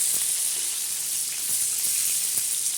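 Semolina-coated fish frying in hot oil, a steady close hiss with scattered small pops and crackles throughout, no voices over it.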